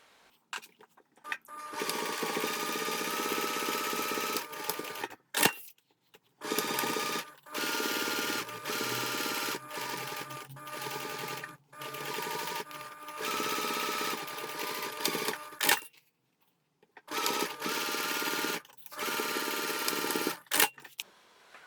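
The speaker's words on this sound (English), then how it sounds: "We will stitch along the sides and the bottom edge" A sewing machine stitching along the sides and bottom edge of fabric, running in several bursts of steady mechanical whirring separated by brief silent pauses, close and clear.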